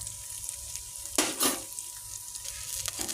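Ginger sautés with garlic in a pan, giving a soft, steady sizzle, with a couple of sharp utensil scrapes and clinks near the middle as it is stirred.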